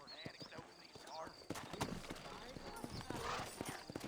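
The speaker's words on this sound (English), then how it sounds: "You ain't gonna find sturdier horses than these in all of New Austin." Horse hooves clip-clop in a steady rhythm in the Red Dead Redemption video game, under a voice talking, with faint background ambience.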